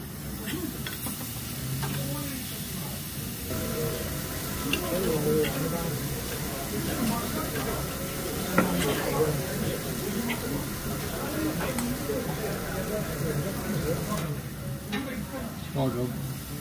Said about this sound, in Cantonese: 煎佢先。